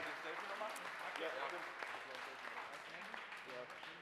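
An audience applauds at an award ceremony, a steady patter of clapping at moderate volume, with voices mixed in underneath.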